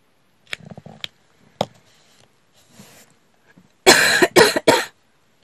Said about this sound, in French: je suis désolée si je tousse.